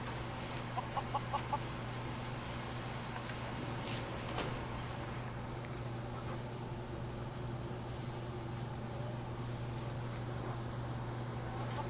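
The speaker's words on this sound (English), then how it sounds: "I'm watching you, chicken." A chicken clucking in a Fallout game, a short quick burst of four clucks near the start over a constant low hum and faint game ambience.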